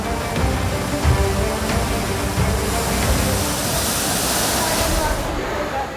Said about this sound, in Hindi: दहाड़ मारते नाले